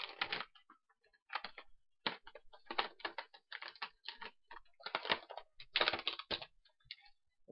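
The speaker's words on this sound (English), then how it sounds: "I tried to tear as less packaging off as I could" Plastic and cardboard packaging of a bootleg wrestler figure being torn and peeled open, a close run of crinkly rips and crackles in short bursts with brief pauses, no talking.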